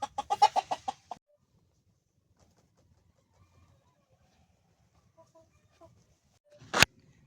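A rooster in a chicken coop lets out a quick close run of about six clucks, then falls quiet apart from faint soft sounds, before one sharp loud burst near the end.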